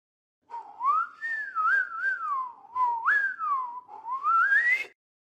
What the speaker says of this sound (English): Let's listen to my whistle.